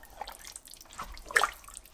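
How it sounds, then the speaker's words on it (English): Water is poured into an Instant Pot filled with meat, a soft, close trickle and splash with scattered drips, peaking briefly near the end. "I'm adding 1 more cup of water."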